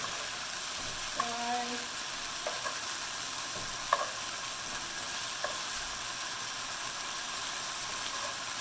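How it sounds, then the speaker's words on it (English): Last batch of beef frying in a pot for Vietnamese bo kho, a steady soft sizzle with a few faint clinks of a utensil against the pot, close and even throughout. "the last batch of the beef is about to cook up"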